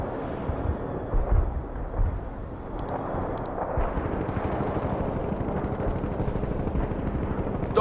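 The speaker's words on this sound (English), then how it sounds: "They're shooting at us!" Battlefield gunfire in the World in Conflict video game, a dense continuous rattle of shots and rumbling blasts filling the whole stretch, with brief high beeps partway through and no clear talk.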